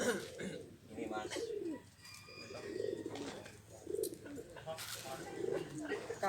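Soft pigeon coos rise and fall in a loft where high-flying racing pigeons are kept, with several low rounded calls repeating under a voice talking nearby.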